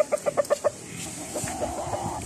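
A hen gives six quick, evenly spaced clucks up close in San Luis, Batangas, then the clucking fades into a busy background of other birds and farm noise.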